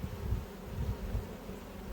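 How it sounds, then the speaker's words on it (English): Bees buzzing inside an apiary hive, a steady low hum from many insects close by, faint and continuous with no talking. "there's quite a few bees in here"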